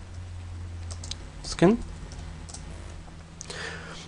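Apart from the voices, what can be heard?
typing on computer keyboard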